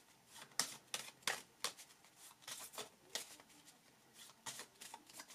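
Playing cards laid down and slid across a table during a French-language card reading, soft quick papery slaps and swishes in an irregular run, close and fairly quiet with no talk.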